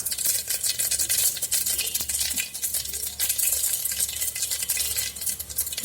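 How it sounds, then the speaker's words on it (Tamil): Mustard seeds, urad dal, fennel, cumin and fenugreek temper in hot oil for a Tamil kuzhambu, giving a steady, dense crackle and hiss with faint stirring clatter throughout, close and without any talk. "கடுகு உளுந்தம்பருப்பு கடுகு சோம்பு சீரகம் வெந்தயம் போட்டு தாளிச்சிருக்கோம்"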